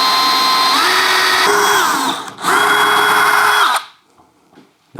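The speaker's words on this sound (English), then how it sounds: "Now I'm going to take the other piece that I cut and pre-drill for some screws on the long edge." A power drill pre-drills screw holes in a wooden track saw square, whining loudly in two sustained runs with a brief dip between, then stopping abruptly into near silence.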